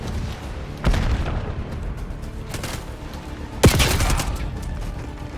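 Rapid SMG bursts from a first-person shooter video game sound close and loud, with a couple of sharper impact peaks punctuating steady firing.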